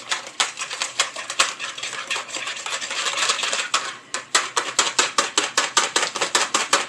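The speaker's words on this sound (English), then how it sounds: "just whisking that together" Ingredients for cinnamon roll dough, including an egg, are whisked together in a bowl, making rapid rhythmic clicking taps against the sides, close and clear throughout, with a brief pause near the middle before the fast strokes resume.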